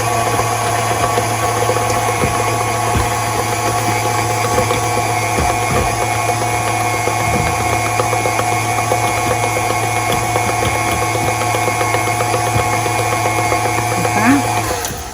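An electric mixer whirs steadily while blending apple cider cake batter in a bowl, a constant loud motor hum with a strong low drone that runs unbroken throughout before easing off at the very end.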